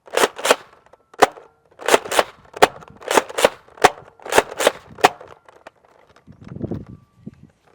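A spring-powered Nerf Rival blaster fires a series of sharp, dry mechanical cracks at an uneven pace, about a dozen shots in all, and softer rustling and handling noise follow once they stop.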